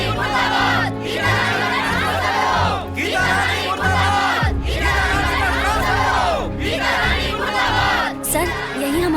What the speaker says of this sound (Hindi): देखिए भीड़ जमा हो गई मैडम